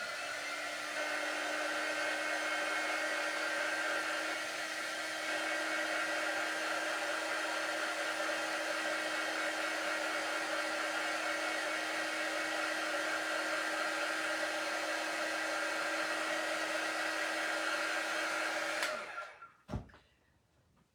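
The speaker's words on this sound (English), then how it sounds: "I'm going to hit it with a shot of heat with my quick dry tool." A quick-dry heat tool blows hot air over a white painted craft cutout, a loud steady whine that holds for about nineteen seconds before cutting off sharply into quiet.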